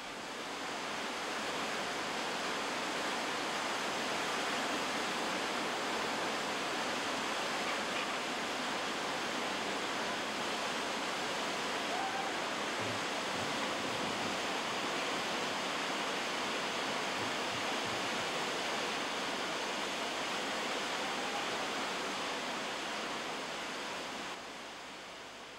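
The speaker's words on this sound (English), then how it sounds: "This was Tony's first waterfall" Roaring waterfall on a kayak descent, a dense, steady broadband rush of falling water that stays loud and unbroken throughout before easing slightly at the very end, with no voices.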